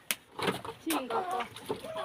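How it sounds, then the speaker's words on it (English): Chickens clucking in a backyard plot in a Kenyan village, a short run of close, uneven clucks and squawks mixed with a person talking. "Chicken."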